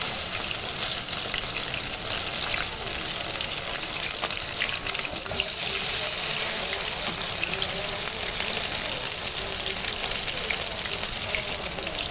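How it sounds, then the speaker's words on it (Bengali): Chicken pakoda fries in hot oil, a dense, even, close crackling sizzle that runs unbroken throughout. "এরকম করে যখন ভাজা হয়ে যাবে, একটু ব্রাউন কালার হয়ে যাবে"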